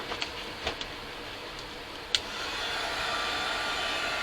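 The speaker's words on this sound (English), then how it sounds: "I hate putting heat gun out as hot as it is out here." Heat gun drying mica mist spray paint outdoors, a few faint clicks and ticks at first, then the gun switches on into a steady close blowing whoosh that holds to the end.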